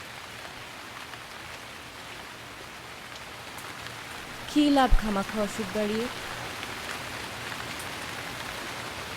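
Steady, even rain pours throughout, a dense hiss that never lets up, with a brief spoken line partway through.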